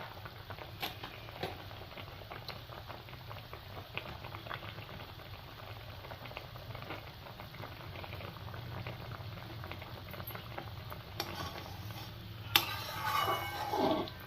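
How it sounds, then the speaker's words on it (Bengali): Sour ripe fish curry (paka machher tak) boils in a pot on the stove, giving a steady, close bubbling and popping that continues throughout, growing a little livelier near the end. "ভালো করে ফুটে যাক"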